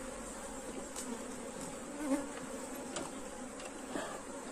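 A honey bee swarm at the hive gives a dense, steady buzz of many bees, close and fairly quiet, with no talking.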